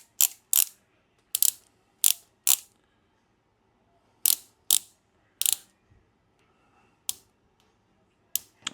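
A ratchet wrench tightens bolts to 115 inch-pounds, heard as a series of short, crisp clicking bursts in irregular groups, close and fairly loud with brief silences between them.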